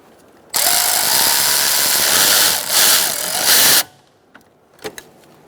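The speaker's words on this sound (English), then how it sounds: "you're going to tighten your clamp" A power tool runs in one steady loud burst of about three seconds with a brief dip, tightening an upper hose clamp on a 2004-2009 Mazda 3, followed by a few faint clicks and knocks.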